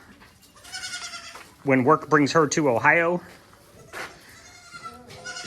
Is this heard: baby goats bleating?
yes